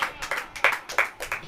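Several sharp hand claps from a church congregation in a quick, slightly uneven rhythm, fairly faint and close, with no voices over them.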